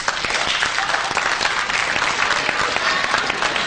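A comedy club audience claps steadily, a dense, loud wash of many hands with no pauses, heard alone without talk.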